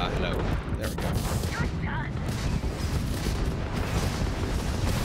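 Spaceship missiles and weapons fire in a Starfield space battle, a dense continuous barrage of booming shots and blasts at loud level throughout, with a voice briefly speaking over the combat.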